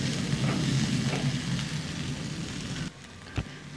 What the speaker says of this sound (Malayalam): നല്ലതുപോലെ ഒന്ന് ഇളക്കി.